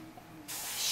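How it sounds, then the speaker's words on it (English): Airbrush-style tattoo spray of black ink applied lightly around edges for shadowing: a steady, close hiss that starts abruptly midway and holds at a constant level to the end, with no talk. "I'm just going to be spraying lightly around the edges with my black"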